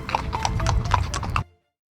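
A horse's hooves clip-clop in a quick, close series of sharp knocks for about a second and a half, then stop abruptly.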